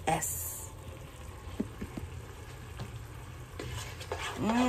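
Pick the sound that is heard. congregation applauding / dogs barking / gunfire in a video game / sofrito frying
sofrito frying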